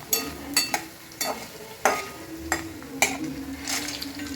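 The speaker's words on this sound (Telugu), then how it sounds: "ఇప్పుడు అత్తయ్య గారు ఈ డ్రై ఫ్రూట్స్ని, ఈ జీడిపప్పుని, కిస్మిస్ని కూడా వేసుకొని వేయించుకోవాలి" Dry fruits, cashews and raisins fry in ghee with coconut for a Ganesh Chaturthi prasadam, a quiet sizzle punctuated by sharp spoon clinks and stirring taps at irregular intervals.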